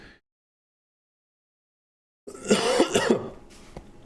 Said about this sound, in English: Just trying not to cough that whole time.